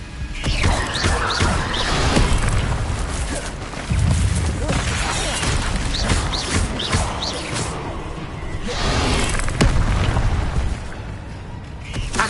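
Incendio fire spell cast repeatedly in the video game Hogwarts Legacy, loud crackling bursts and thumps recurring every couple of seconds amid continuous busy game noise.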